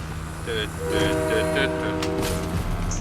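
Train horn in the Fortnite video game, sounding in long sustained blasts over steady rumbling game noise, moderately loud, while a player talks over it.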